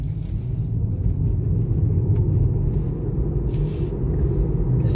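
An MG ZS EV electric car rolls over a bumpy road, giving a steady, loud low rumble of tyres and suspension from inside the cabin with a few faint knocks and rattles, no voice present.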